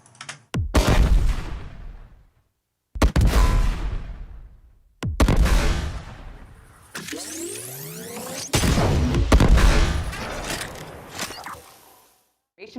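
A series of heavy booming explosions from a Warframe weapon, five or six loud blasts each decaying into rumbling debris, one with a sweeping whistling tail, closely spaced and powerful.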